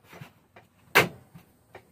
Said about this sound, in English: That fucking door!